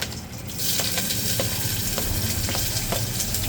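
Green chillies and onion sizzle in hot oil with cumin, curry leaves and garam masala, the frying swelling loudly after a quieter start, with a few scraping stirs over the continuous crackle.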